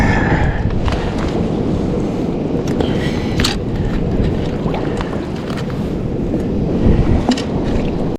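Strong wind and breaking waves on the open Oregon coast around a fishing kayak, a steady loud rush of gusting air and surf with heavy wind buffeting on the microphone throughout.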